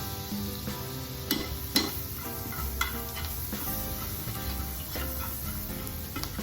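Garlic, about a teaspoon, sizzles steadily in a pan over lowered heat, with a few sharp scrapes and clicks of stirring rising above the constant frying hiss; no talking.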